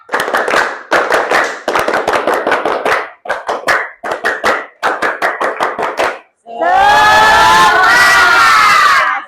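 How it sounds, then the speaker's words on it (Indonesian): A standing class does a rhythmic spirit clap in sharp bursts of synchronized hand claps for about six seconds, then breaks into a loud, sustained group cheer and shout. "Tepuk semangat."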